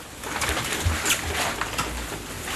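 Pigeons in a makeshift garage operating room coo softly and rustle, with low throaty calls and a few brief sharper sounds over a steady background murmur.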